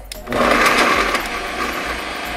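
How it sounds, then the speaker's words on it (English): A kitchen blender blends pesto sauce with Parmesan cheese: a steady, loud motor whir starts after a brief quiet moment and runs continuously to the end. "So I'm gonna blend now. Pardon the noise."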